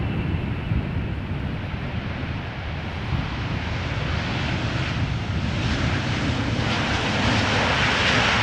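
A Boeing 737-800 arrives at Amsterdam Schiphol Airport after rain, its engine noise a steady, broad roar that swells slightly as it passes, with some wind buffeting the microphone and no voices.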